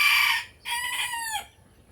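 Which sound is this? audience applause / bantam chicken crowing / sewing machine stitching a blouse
bantam chicken crowing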